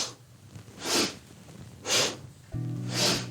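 Three sharp, forceful sniffing breaths through the nose come at roughly one-second intervals during a yoga flow, close and breathy, with a low sustained tone entering near the end.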